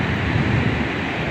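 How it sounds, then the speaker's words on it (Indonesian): Steady, roaring wash of ocean waves breaking on the soft, pebble-free black-and-white sand beach of Pantai Dlodo Rejosari, a loud continuous surf rumble with wind noise on the microphone. "ini kita songsong ombak-ombak yang kesini ya"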